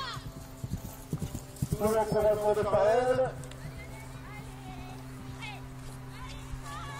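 Pony hooves clip-clop on the ground at a 60 cm show jumping relay, rhythmic but faint, under an announcer's loudspeaker commentary that carries across the event.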